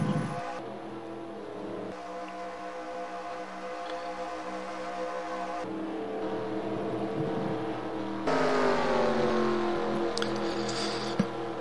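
Race car engines in an eNASCAR racing video game run as a steady, whining drone with shifting pitch as the cars head into turns 3 and 4, with no talk over them.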